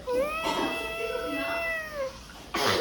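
A voice imitates a cat, giving one drawn-out, wavering meow close to the microphone, followed by a brief burst of noise.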